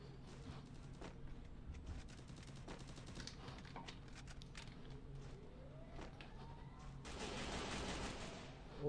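Gunfire from the Free Fire battle royale game, rapid bursts of shots crackling amid a dense busy mix of game sounds, with a louder hissing surge near the end.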